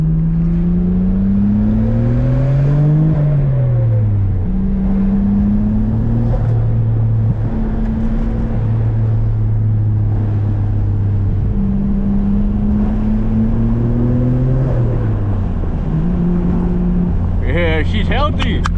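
A Nissan R32 GTR engine heard from inside while driving, droning loudly as revs rise and fall through several gear changes, with turbo spooling and a brief whistle near the end.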